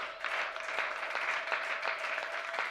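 A congregation at a French-speaking Christian church event claps and cheers together, a dense, sustained wash of applause with scattered sharper claps, fairly loud and steady throughout.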